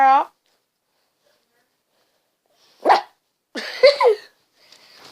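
A female dog barks nearby, a few sharp, loud barks and a yelp separated by silent gaps.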